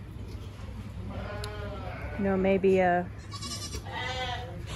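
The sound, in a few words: wool and hair sheep mix bleating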